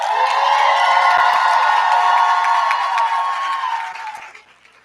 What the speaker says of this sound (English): Now is your opportunity to thank them by offering them a round of applause.